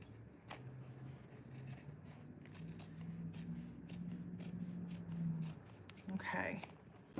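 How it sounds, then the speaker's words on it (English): Quiet, close scissors snip and slide through fabric, a few distinct cuts spaced out, with soft murmuring speech nearby. "I'm gonna just trim. I'm gonna use my scissors."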